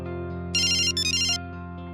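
Phone ringtone rings out over a speakerphone, a short bright electronic melodic burst laid over a steady background hum, heard once.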